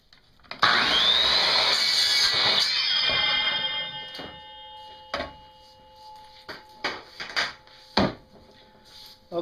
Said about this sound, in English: all I got left is cutting my filling tube, my PVC filling tube